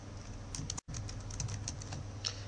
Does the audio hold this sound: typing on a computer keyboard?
yes